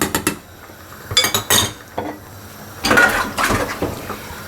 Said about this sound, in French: je vais les verser sur le reste. Je mélange bien.